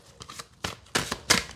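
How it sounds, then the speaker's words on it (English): Tarot cards shuffled by hand in four separate bursts of crisp riffling, each a short papery rush with brief pauses between, close and fairly quiet. "Let me shuffle again."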